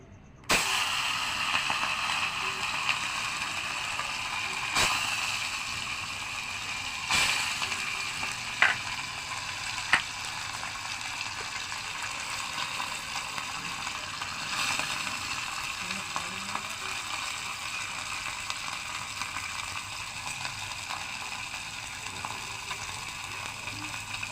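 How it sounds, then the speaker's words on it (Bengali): Small mourala fish, coated in salt and turmeric, sizzle steadily in hot oil as they are turned over in the pan, with a few sharp clicks and taps from the utensil over the constant frying hiss. "মাছটাকে আমি এখন এপিট ওপিট করে ভেজে নিচ্ছি।"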